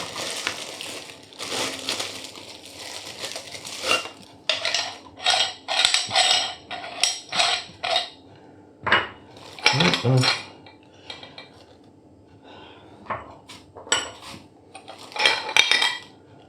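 Metal meat grinder attachments for a Hauswirt HM780 stand mixer, including the feed scroll, cutting blade and grind plate, are handled and set down, producing irregular clinks, clatters and scrapes at close range with short pauses and no talk.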